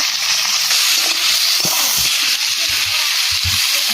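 Vegetables sautéing with turmeric in oil in a pan give a steady, close frying sizzle and hiss throughout, with a few soft stirring knocks and scrapes underneath.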